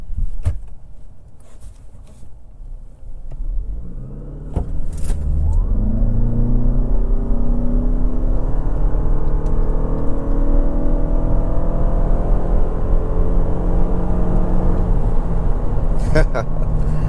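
A 2024 Toyota RAV4 Limited Hybrid SUV accelerates hard, its engine note rising and droning steadily from inside the cabin as a person talks over it.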